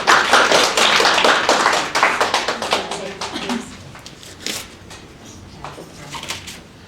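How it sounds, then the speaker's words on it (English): Applause from a small group at a talk on melatonin research, a burst of clapping that fades over several seconds, with voices mixed in. "Okay, applause."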